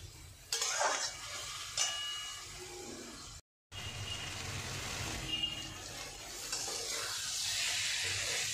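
Spices with turmeric are sautéed and stirred in a pan, giving a steady frying sizzle with scraping stirs and an occasional clink of a utensil against the pan, close and continuous with one brief silent gap.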